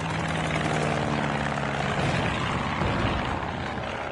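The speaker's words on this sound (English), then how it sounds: "Black plane, wings swept back." A black plane with swept-back wings flies overhead as a radio drama effect: a loud, steady droning engine roar with a hum that holds, then gives way to broader rushing noise as it passes.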